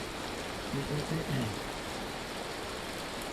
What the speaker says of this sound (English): It's hailing for a long time. I mean, I don't mind the rain.